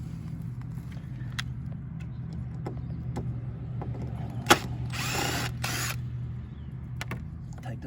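A power drill backs a screw out while a homemade coil is being built, two short bursts of buzzing whir in the middle over a low steady hum, with scattered small clicks of handling around them.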